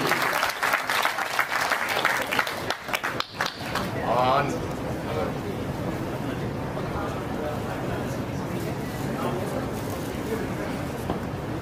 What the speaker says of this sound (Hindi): हाथ ऊपर करके एक बार जोरदार तालियों से